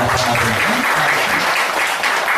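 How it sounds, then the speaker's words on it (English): A crowd at a product demo event applauds loudly and continuously, a dense wash of clapping with a voice briefly heard at the start. "Our applause for our honors report."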